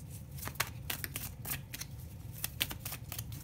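Tarot cards are shuffled close by in quick, crisp riffles and slides, a light papery flutter over a low background hum, with no voices.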